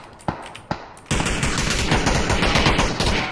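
Gunfire in PUBG: two sharp single shots, then a sustained burst of rapid automatic fire that runs loud and dense to the end.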